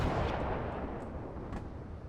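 Naval guns of a Wickes class destroyer fire in World of Warships, a booming shot that opens the clip and rolls off into a long rumble, with fainter cracks following, loud and without talk.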